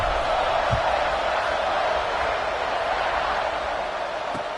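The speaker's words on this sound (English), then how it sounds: "this crowd is buzzing after that last score" A college football stadium crowd buzzes as a dense, steady roar of many voices, loud and continuous without clear peaks.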